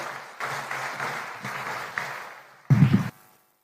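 An audience claps at a Kenyan state address to welcome President William Ruto, with a dense, moderate wash of applause and a louder, heavier burst near the end.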